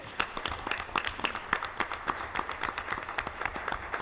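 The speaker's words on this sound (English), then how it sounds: "Let's clap for that." Applause from the audience at a school board of education meeting, a soft, fairly distant patter of many hands clapping steadily for about four seconds.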